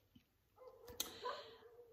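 Small dogs bark and yip outside a window, a few sharp faint yaps clustered in the middle of a quiet indoor room, distant and muffled rather than close.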